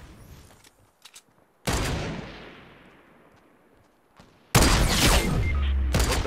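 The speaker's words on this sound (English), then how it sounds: "We can snipe him, just take snipes." Two sniper rifle shots ring out in Fortnite, each a sharp loud crack with a long echoing decay, the second a few seconds after the first, and a few soft clicks come before them.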